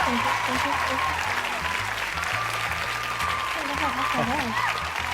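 A crowd applauds steadily and loudly for a welcomed guest on a live talk show. The clapping runs throughout under music and voices talking over it.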